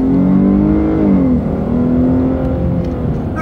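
Dodge Challenger V6 engine accelerating, a loud steady engine drone whose pitch climbs then settles, heard alone and up close with no talking.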